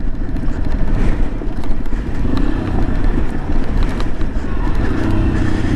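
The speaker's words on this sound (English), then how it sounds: "It's a little torquey bike." Yamaha XT250 dual-sport motorcycle engine running with a steady, loud buzzing drone and rattly mechanical texture, close by and continuous, with a voice partly blended over it.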